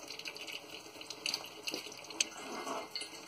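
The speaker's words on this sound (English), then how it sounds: "I don't think it's ever going to quit draining." Transmission fluid pours and trickles steadily from a 2005 Dodge Dakota during a fluid and filter service, a continuous faint liquid splatter with occasional drips, no talking.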